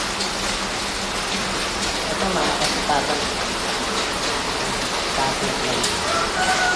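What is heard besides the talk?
rain falling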